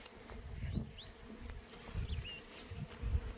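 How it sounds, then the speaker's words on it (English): Bees buzz around a beehive in close, wavering drones that rise and fall, with faint chirps in the background and no talking. "So all the bees that are out"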